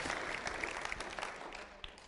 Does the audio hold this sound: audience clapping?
yes